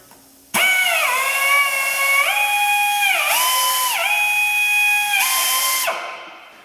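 Rotary burr on a power tool reaming a tire puncture hole before a patch goes in, a loud high-pitched whine that starts abruptly, shifts pitch several times as it loads and frees up, then winds down at the end.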